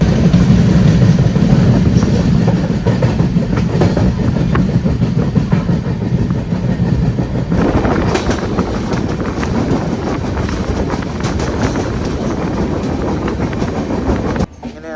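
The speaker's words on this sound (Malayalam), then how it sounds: "മംഗലാപുരം ജംഗ്ഷന്റെ 4ാമത്തെ പ്ലാറ്റ്ഫോമിലേക്ക് നമ്മൾ എത്തിച്ചേർന്നിരിക്കുകയാണ്" An express train rolls into Mangalore Junction with a loud, continuous rumble and rhythmic clatter of wheels over rail joints, heard close throughout and cutting off sharply at the end.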